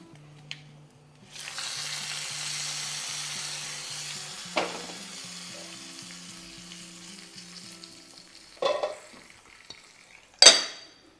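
Chilies frying in hot oil in a pan for a Kottayam-style Onam sadya recipe, a steady loud sizzle with occasional stirring scrapes and clinks of a utensil, no talking.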